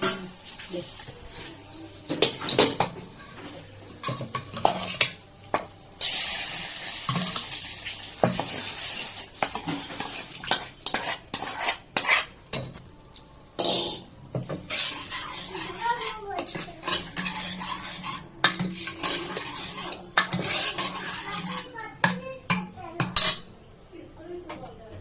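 Lentils go into a pot of tempering for gongura pappu and are stirred, with metal spoon scrapes and clinks against the vessel and a soft sizzle underneath, irregular and close, while voices talk intermittently.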